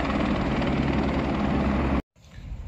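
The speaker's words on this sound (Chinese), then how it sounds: "直升机啊！" A helicopter flies overhead with a loud, steady rotor thump and engine drone, cut off abruptly partway through before quieter outdoor noise returns.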